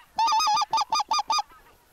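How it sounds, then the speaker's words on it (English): Several geese honking as they fly low overhead during an Alberta goose hunt, a close, loud series of about six nasal honks in quick succession, then fading. "Three geese on the right, really, really low, really low."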